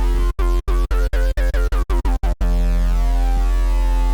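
A zaag kick built in Serum 2 with no plugins: a run of about ten rapid, loud, punchy distorted kick hits that speed up into a roll, then a sustained tonal tail ringing out alone.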